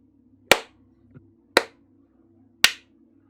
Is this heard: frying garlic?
no